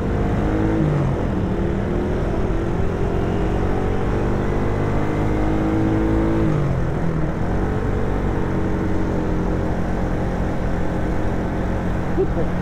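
Cars racing on a road produce a steady, loud engine drone that rises and falls in pitch as they speed up, with no clear voices.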